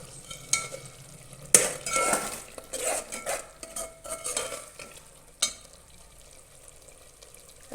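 Green chickpeas go into a pot of softened tomatoes, followed by close spoon scrapes and clinks against the metal with a light sizzle, in irregular bursts.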